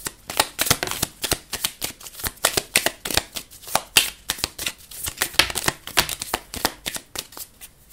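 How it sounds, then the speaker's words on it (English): Tarot cards being shuffled by hand, a steady run of crisp riffling flutters and snaps repeating rhythmically, close and fairly loud without speech. "Grab some cards here."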